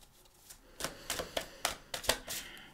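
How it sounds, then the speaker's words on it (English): A deck of cards being shuffled, a quiet run of short, crisp riffling bursts and clicks in an uneven rhythm, close by and alone. "I'm going to shuffle for the cards."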